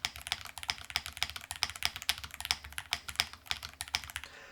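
Rapid typing on an RO75 75% mechanical keyboard, a dense steady stream of crisp close keystrokes with occasional heavier thocks, no voices.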